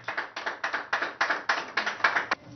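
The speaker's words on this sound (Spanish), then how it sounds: "En medio de aplausos, el gran Lucas se convierte así en un símbolo de lucha por la vida." Applause for baby Lucas as he leaves Hospital Rebagliati, a quick run of about ten sharp claps in an even rhythm, close and fairly clear, with no voices.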